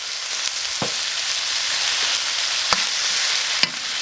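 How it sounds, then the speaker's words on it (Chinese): Sliced pig ears are stir-fried in a wok, with a loud, continuous sizzle close by and occasional sharp scrapes of the spatula against the metal. "下入这个切好的这个猪耳朵，来炒一下"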